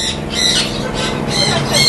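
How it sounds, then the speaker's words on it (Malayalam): A pet parrot, one of a pair newly added to a backyard aviary, gives repeated harsh squawks close by, loud and continuous over a background of other birds. "നമ്മുടെ തത്തയാ പുതിയത്"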